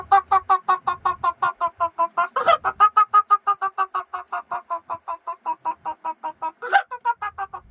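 A human voice imitates a rooster with rapid repeated crowing-like clucks, loud and close, punctuated by two sharper higher calls.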